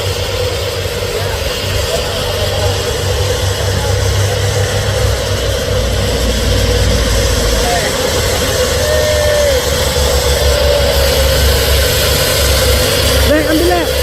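Heavy trailer trucks labor uphill at Bukit Kodok, a loud continuous low engine drone with strained rumble, passing traffic and faint voices underneath.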